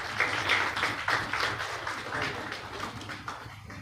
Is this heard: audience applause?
yes